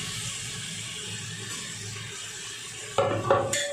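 Steady sizzling of coriander and mint leaves sautéing in a pan, with a brief clatter of a utensil stirring near the end.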